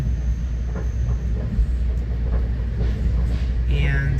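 NJ Transit M&E express train #6663 running on rails toward Madison, a steady close rumble of wheels and car body with rhythmic clacks and a brief high squeal near the end.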